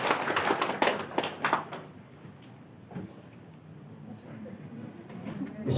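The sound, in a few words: audience applause at a teacher workshop opening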